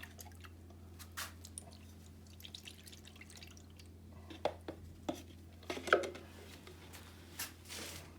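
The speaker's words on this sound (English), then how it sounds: "Give it a quick stir." Concrete countertop sealer is stirred in a container, giving faint wet drips, light scrapes and small taps scattered over a quiet, low hum.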